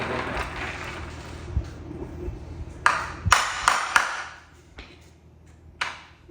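Parts of a clothes drying stand snap into place as it is fixed together, giving several sharp metallic clicks and pings over a low background rumble, close by and with no talking.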